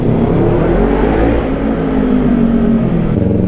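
A Yamaha R6 motorcycle engine drones steadily on a highway, a loud continuous roar mixed with heavy wind rush, holding a fairly constant pitch with a slight drop near the end.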